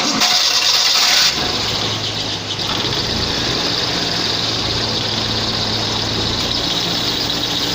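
A Suzuki Mehran car engine cranks briefly and catches, then settles into a steady close idle that runs on alone.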